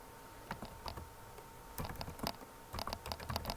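Quiet, close computer keyboard typing in irregular bursts of rapid key clicks, with short pauses between clusters and no voice over it.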